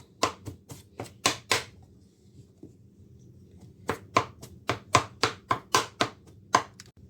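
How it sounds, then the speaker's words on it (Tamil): A sharp-edged utensil chops into a puttu flour mixture for Sri Lankan paal puttu in two bursts of quick, crisp taps, about six strikes, a pause, then a faster run of a dozen or so, close and clear with no talking. "நான் கொத்திட்டேன் நான் இப்படி குத்தி எடுத்துட்டேன்"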